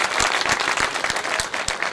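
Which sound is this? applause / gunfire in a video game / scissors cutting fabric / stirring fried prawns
applause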